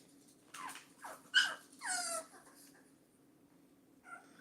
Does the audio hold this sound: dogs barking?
yes